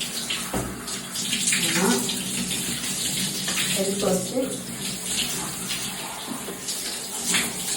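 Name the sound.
shower water running while rinsing children's hair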